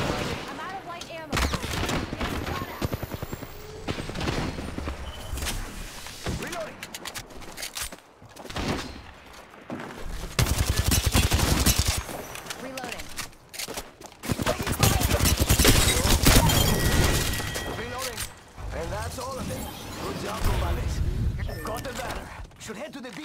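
Rapid gunfire erupts in repeated bursts and volleys during an Apex Legends match while taking fire, loud and dense, with short lulls between exchanges and voices underneath.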